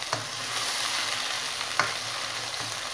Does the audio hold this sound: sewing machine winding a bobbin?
no